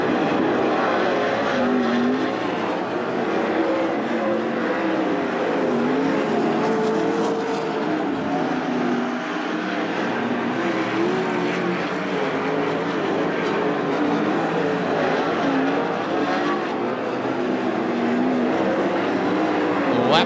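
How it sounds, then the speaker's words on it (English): 410 sprint cars racing through a heat race at Attica Raceway Park, a dense, continuous engine roar that stays loud and steady throughout with a faint crowd or announcer murmur underneath. "Laps winding down, heat race number 2, Zane DeVault on cruise control out front of"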